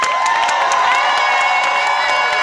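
A live audience at a stage event cheers and whoops loudly, a dense steady roar of many voices with shouts rising over it and no single voice standing out.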